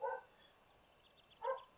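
A dog barks outside a window, two quick yapping barks about a second and a half apart, faint and somewhat distant over a quiet room.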